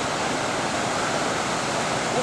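Fast-moving white water rushes in a river, giving a loud, steady, close roar of churning rapids throughout.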